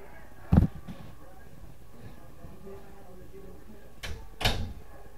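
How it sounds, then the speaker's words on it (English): A door thumps shut close by in a room where a game is being played, with two separate knocks and a rattle a few seconds apart over faint background noise. "Close the door!"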